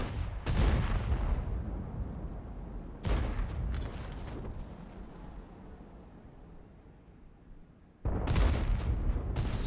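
Three heavy booming artillery shots ring out in the World of Tanks game, fired by a G.W. Tiger. Each is a sharp blast followed by a decaying rumble, spaced several seconds apart.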